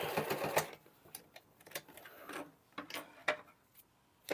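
A sewing machine stitches a handmade oven towel in short bursts of rapid mechanical clatter, close and fairly quiet, with brief pauses between runs.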